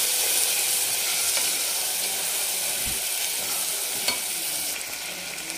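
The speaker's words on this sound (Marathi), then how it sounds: "आपण हे भिजवलेले छोले टाकून घेणार आहे आणि छान मिक्स करून घ्यायचं याला" Soaked chickpeas sizzle in an oily frying masala while being stirred, a steady dense hiss with occasional soft scrapes of the spoon, easing slightly toward the end.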